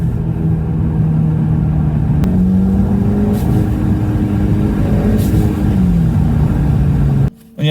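An Audi S3 8V turbo engine fitted with a GFB DVX T9659 blow-off valve revs loudly at close range with a steady droning rumble, its pitch rising and falling, before a brief gap and a sharp release at the end.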